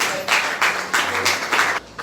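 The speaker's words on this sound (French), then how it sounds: "Applaudissez le Seigneur." A church congregation claps along in bursts during a French-language worship service, the clapping swelling and easing in a steady rhythm of roughly half-second pulses at moderate loudness.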